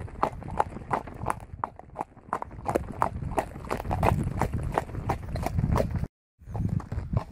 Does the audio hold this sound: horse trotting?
yes